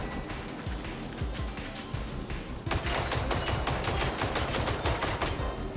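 Rapid pistol fire in a video game against a flying mech, with dense, sharp shots repeating quickly and intensifying in the second half.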